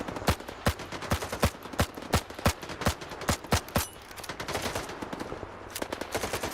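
Rapid bursts of gunfire from a Ukrainian-made gun in a video game: a dozen or so loud, sharp shots in an uneven rhythm, then a softer, denser stretch of rattling fire.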